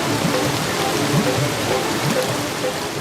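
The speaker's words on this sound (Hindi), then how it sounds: "ये आवाज कैसी है? हम झरने की तरफ बढ़ रहे हैं।" Cartoon waterfall rushing in a jungle, a dense, steady hiss of falling water heard alone with no talking, close and fairly loud throughout.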